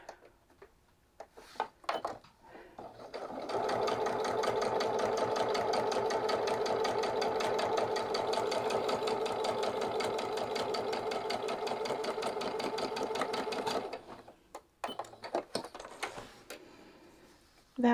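A home sewing machine, just cleaned with its bobbin case reinstalled, stitches fabric in a steady rapid whirring run of about ten seconds, framed by a few quiet clicks and handling noises before and after.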